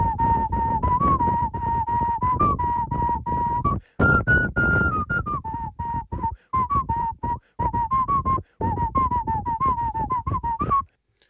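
A solo whistled melody from a voice note, played at a slower tempo: clear, close sustained notes that glide and bend, with short breaks between phrases and a faint hiss of recording noise beneath.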